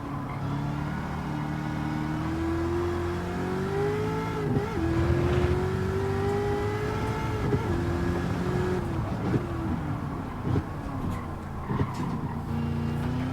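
A race car engine in Gran Turismo 7 holds a continuous mechanical drone, with pitch rising and falling as it revs, brakes and accelerates, plus a few brief bumps and scrapes, with no one talking.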